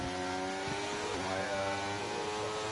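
Race car engines droning and revving in a Miami Grand Prix racing game, a continuous loud motor tone with shifting pitch as a car laps.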